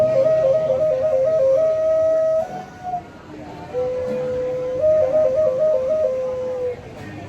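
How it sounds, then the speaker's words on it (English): A whistle is blown in a warbling, trilling pattern, with a steady tone in between, in two phrases separated by a short pause. Nearby background sound and room noise run underneath. "I didn't know it was a whistle."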